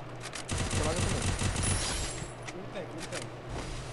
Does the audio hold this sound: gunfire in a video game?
yes